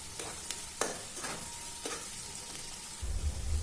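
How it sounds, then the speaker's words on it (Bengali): Pulao with fried cashews and raisins is stirred in a pan, the spoon scraping in a few distinct strokes over a soft, steady sizzle, with a low thump near the end and no talk. "জাস্ট একটু এটাকে আর একটু হালকাভাবে নেড়ে চেড়ে নিয়ে এর মধ্যে ভেজে রাখা কাজু কিশমিশটাকেও অ্যাড করে দিলাম।"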